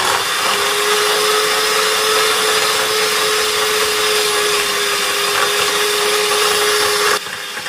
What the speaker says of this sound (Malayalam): ഇനി നമുക്കിത് ലോ സ്പീഡിൽ വെച്ചിട്ടാണ് നമ്മളിത് ബീറ്റ് ചെയ്യേണ്ടത്.